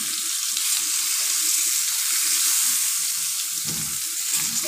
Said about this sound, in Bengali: তো এখানে আমি বেগুনগুলো ভেজে নিচ্ছি।